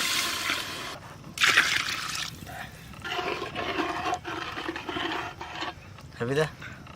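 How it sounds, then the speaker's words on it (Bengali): Water poured from a mug into washed basmati rice in a pot, a splashing stream in bursts over several seconds with people talking throughout. "এক এক মগ চাল দুই মগ জল দেবো"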